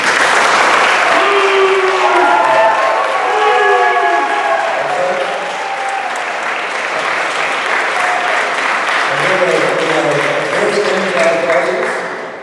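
Loud, sustained audience applause at a county executive debate, dense clapping with voices calling and talking over it, swelling and holding before tapering off at the end.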